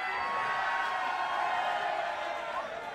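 Crowd at a live gig in a small club cheering and whooping loudly, a dense continuous roar of voices that holds for several seconds and eases slightly at the end.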